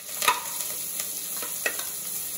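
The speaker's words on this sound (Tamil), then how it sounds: "எண்ணெய் காஞ்சிருச்சு, மசாலாலாம் போட்டுக்கலாம். கருவேப்பிலை போட்டுக்கலாம்." Spices and curry leaves hit hot oil for mutton curry, producing a bright continuous sizzle with a few crackling pops close by.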